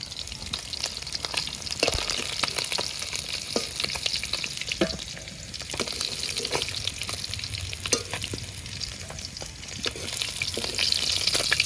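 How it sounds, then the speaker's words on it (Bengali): Mirik fish frying in hot oil with a steady, crackling sizzle throughout, punctuated by occasional scrapes and stirs of a utensil in the pan. "মাছগুলো ভালো করে ভেজে নিয়েছি এবার তুলে নেব"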